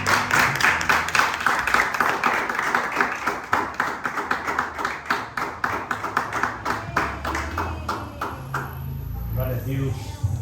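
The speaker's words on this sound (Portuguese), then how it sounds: "Mas se colocando de pé aí, em nome de Jesus, você pode vá aplaudindo o Senhor aí." A church congregation claps along in a quick, regular rhythm, the beats ringing out over music and voices, then thinning toward the end.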